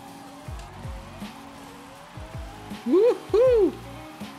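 Engine revving in a Porsche while drifting through a drift zone in Forza Horizon 5, with repeated rising engine whines and two loud squealing tire slides near the end, under a voice cheering.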